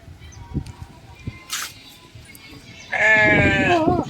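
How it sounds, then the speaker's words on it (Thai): Sheep bleating as they are fed at a farm attraction, a loud drawn-out bleat near the end after quieter scattered sounds, with a person's voice faintly present. "แกะร้องแบบนี้"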